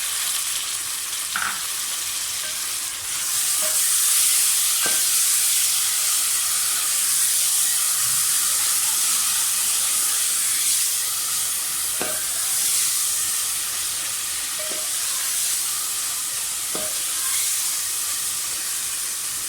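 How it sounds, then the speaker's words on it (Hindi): Garlic ginger paste sizzles steadily and loudly with fried onions in a pan, a constant frying hiss with occasional light clinks of a spoon stirring. "लहसुन अदरक का पेस्ट डाल दें, जल्दी डालने पेस्ट।"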